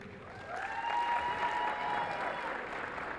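Sustained applause fills a college basketball gym on Senior Day at Carson-Newman, honoring a senior cheerleader; steady, dense clapping from a sizable crowd that swells and holds without a break.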